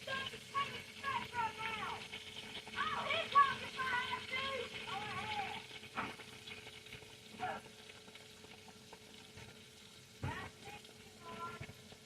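Soft, continuous sizzling of chicken breast tenders frying, with people talking quietly over it and occasional clinks.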